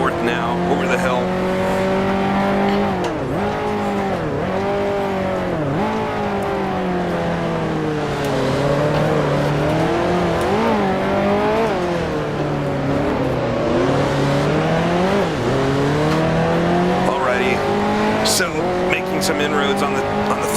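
A 1955 Formula One race car in the Grand Prix Legends racing game, its engine note climbing and dropping with repeated gear changes between second, third and fourth, loud and continuous, with someone talking over it.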